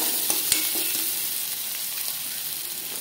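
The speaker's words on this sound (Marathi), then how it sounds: "लसूण आणि मिरची वाटलेले टाकले तेलात. ते भाजून घ्यायचे लाल." Garlic and chili paste fries in hot oil for okra stir-fry, a steady close sizzle with a few sharp crackles and clicks near the start, no voices.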